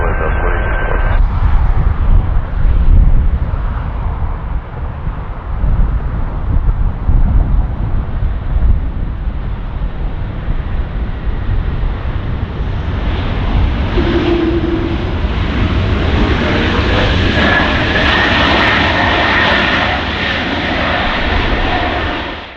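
A Delta airliner rumbles in to land on runway 24 right at Los Angeles International Airport, a loud, sustained roar with wind buffeting, heard alone.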